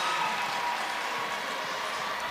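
Arena crowd cheering and applauding after a gymnastics routine ending in a double layout at a Penn State versus Michigan State meet, a steady dense roar with no break across the whole stretch.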